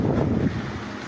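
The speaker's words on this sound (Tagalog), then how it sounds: "Lakas ang hangin, no?" Strong wind gusts buffet the microphone outdoors in a brief, loud rush that eases off after half a second.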